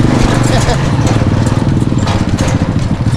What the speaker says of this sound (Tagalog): Nakalog pa rin ang ating motor ah.